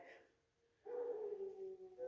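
Dogs howling together, a sustained wavering tone starting about a second in after a quieter opening, fairly close and continuing to the end.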